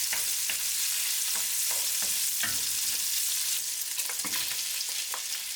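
Chopped bacon sautéing lightly in a pot for beef goulash, a steady close sizzle with intermittent stirring scrapes and clicks throughout, no voices.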